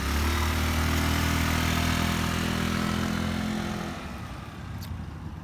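A BMS Prestige 150 scooter engine runs close by, a steady loud drone for about four seconds that then drops off to a quieter, rougher hum as it pulls away or eases down.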